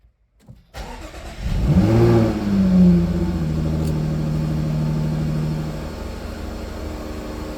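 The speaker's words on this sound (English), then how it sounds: "Car in neutral, and it should start." A Jaguar car engine cranks and catches after a brief silence, surges up in a couple of revs, then settles into a steady, close idle with no talking.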